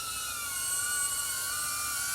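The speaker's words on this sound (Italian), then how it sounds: "Mandandolo giù, il drone scende" A high-pitched electric whine of a small DJI Avata FPV drone's motors hums steadily, pitch wavering slightly as it descends.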